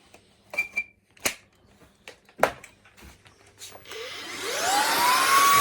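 A Shark DuoClean cordless vacuum cleaner, just unblocked after overheating, gives a few clicks and taps before starting up with a rising whine into a steady close motor roar.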